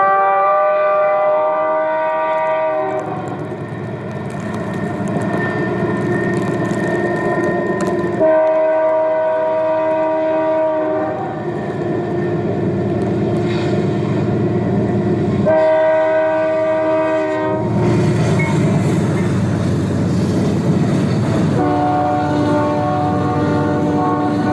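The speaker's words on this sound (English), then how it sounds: "Behind the flanger, an eastbound BNSF trackage rights train works upgrade." An eastbound BNSF freight train works upgrade behind a flanger, its loud horn sounding repeated long blasts over a continuous heavy engine rumble and wheel roar, close and alone without talk.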